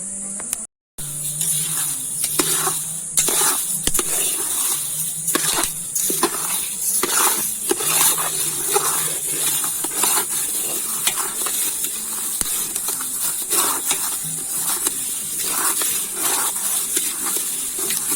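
Horse gram flour roasting in a pan and stirred without pause, giving a steady dry sizzle with repeated scraping strokes throughout, and no talking.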